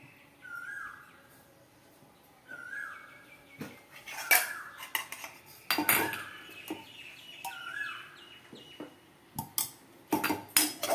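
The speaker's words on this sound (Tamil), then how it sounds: "இப்போ கரண்டியை வச்சுட்டு நெய்யை விட்டு வறுத்துக்கணும்." Ghee-roasting raisins and cashews in a pan with a metal ladle for Aadi festival kozhukattai and milk sweet gives repeated clinks and scrapes of metal on metal at close range, with short bird-like squeaks from the ladle scraping and no voices.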